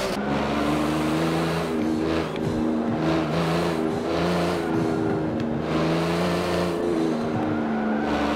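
Race car in the Forza Motorsport 7 video game, a slightly damaged car mid-race, with a loud continuous engine drone, shifting revs and repeated tire skids and squeals, no talking.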